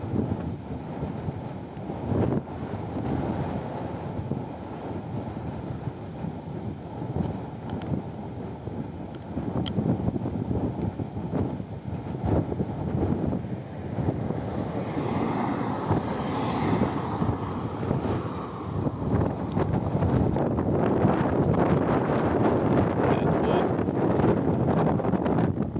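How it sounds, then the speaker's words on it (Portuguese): Strong outdoor wind buffeting the microphone of a Fimi X8 Mini drone in flight, a continuous loud rumbling roar that swells stronger toward the end. "o vento tá forte"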